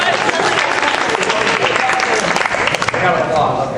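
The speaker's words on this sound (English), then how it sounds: "I got applause" An audience claps and cheers after a high school senior's farewell speech at a thespian event, a brief, loud burst of dense applause.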